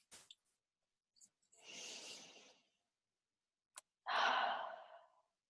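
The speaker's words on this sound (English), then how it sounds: "take a deep breath" Two slow, deep breaths during a guided relaxation in a women's circle, a soft inhale followed by a longer, louder exhale, close and otherwise quiet.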